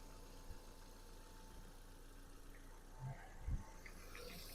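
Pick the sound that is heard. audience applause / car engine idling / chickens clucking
car engine idling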